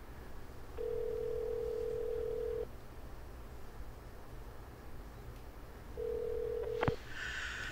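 A ringback tone sounds on a phone calling a lost phone. Two long steady tone bursts are separated by a pause in a quiet room, and a short click comes near the end.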